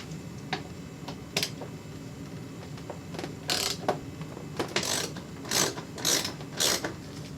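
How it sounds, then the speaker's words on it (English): Ratchet with an extension and a 3/16 Allen head working a front turn signal bolt on a Road Glide motorcycle: a run of quick, bright clicking bursts, near and fairly loud, repeating irregularly with no talk. "you're going to want to get a ratchet with an extension and a 3/16 Allen head"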